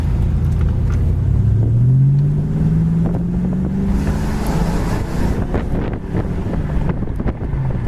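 A 1987 Ford Mustang GT convertible drives along with a low engine drone rising in pitch as it accelerates, mixed with heavy wind buffeting and road rumble.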